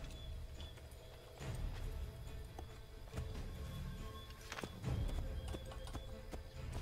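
Horse hooves clip-clopping in the video game Assassin's Creed 3, quiet irregular taps and thuds over a soft game background, no speech.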